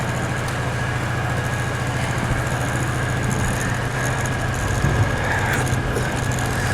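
The engine of a 1970s PUG UTV runs steadily at a rough, low idle, close and loud, while the machine is put into gear. A faint clunk comes near the end.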